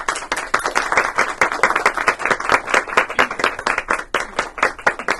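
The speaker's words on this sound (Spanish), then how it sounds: "Aplauso sostenido." Sustained audience applause at a Venezuelan book presentation, many hands clapping in a dense, even rhythm that keeps going strong throughout, close and loud with no talking.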